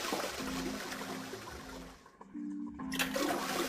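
A toilet flushes in the 999 (9 Hours 9 Persons 9 Doors) video game after a string is pulled, a rushing watery gurgle with a tonal hum that drops away briefly before surging back loudly.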